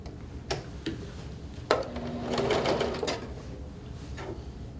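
A sewing machine stitches 3-inch sashing onto the last side of a table runner, running in a steady mechanical whir for about a second after a few short taps, close and moderately loud.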